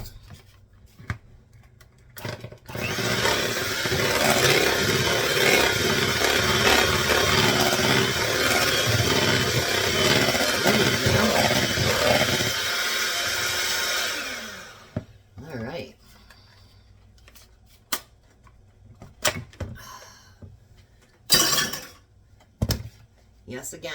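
An electric mixer whirs loudly and steadily for about twelve seconds as apple coffee cake batter gets a final mix, then cuts off, followed by scattered kitchen clatter and a voice.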